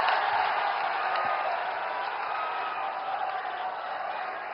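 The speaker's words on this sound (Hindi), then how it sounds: "आपकी जोरदार तालियों के साथ" Loud, sustained applause from a large crowd at a Prime Minister's political rally in Azamgarh, a dense steady roar of clapping that holds evenly for several seconds with no speech over it.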